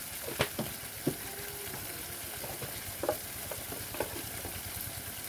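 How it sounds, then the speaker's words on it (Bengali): Turmeric, chili powder and spices sautéing for an egg and peanut curry, a steady sizzle with a few scraping stirs and soft clinks in the pan. "সব কিছু দিয়ে ভালো করে কষিয়ে নিতে হবে"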